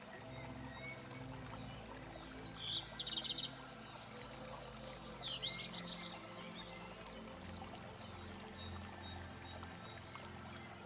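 Water rushes and burbles steadily in a flowing stream, with birds chirping and tweeting intermittently in the background.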